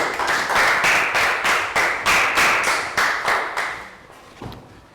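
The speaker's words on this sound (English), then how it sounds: "Round of applause for Pat." A Year 3 class claps for a classmate in a social studies lesson, about a dozen rhythmic, evenly spaced clap bursts close by, tapering off near the end.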